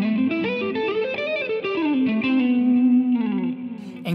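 Distorted electric guitar plays a melodic line built on a six-note hexatonic scale with added blues notes, sustained and bending phrases with effects and reverb, loud and alone without talking.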